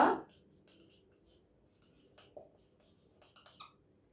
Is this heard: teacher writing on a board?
yes